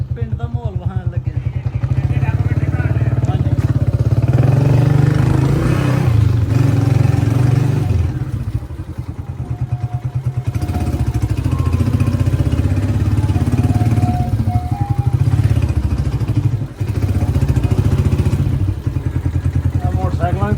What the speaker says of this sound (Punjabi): ਮੋਟਰਸਾਈਕਲਾਂ ਵੀ ਫਸ ਜਾਂਦੀਆਂ ਜੀ ਸਾਡੇ ਪਿੰਡ ਆ ਕੇ